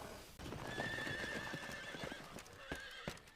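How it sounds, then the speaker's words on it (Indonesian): Horse-drawn carriage moving along with rhythmic clip-clopping hooves and a horse's neigh, fairly close and steady, with no speech over it. "ada kereta kuda bergerak ke arahnya"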